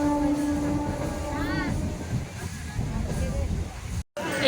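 Train pulling away from Kulpi station on a rainy day, a steady rumbling rail roar with a faint horn-like tone, heard close from the platform under mixed background noise, briefly cut to silence near the end.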